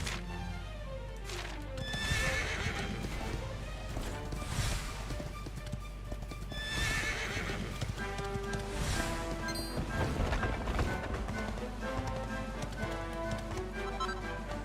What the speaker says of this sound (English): Let's get on our horse, shall we?